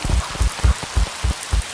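Cartoon rain patters in a quick, even rhythm of soft low thumps, about four per second, close and fairly loud for under two seconds.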